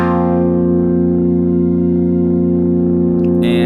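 A sustained, wide Omnisphere synthesizer pad with a shimmering, effected texture, holding steady and loud throughout, with a brighter wash entering near the end.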